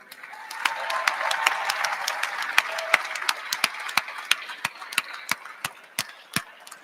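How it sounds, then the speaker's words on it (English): A Western Michigan University crowd celebrating its men's hockey national championship claps for player Tim Washi: moderately distant applause with sharp, distinct individual claps standing out and growing louder over several seconds. "So, round of applause for Tim Washi leading us all year long."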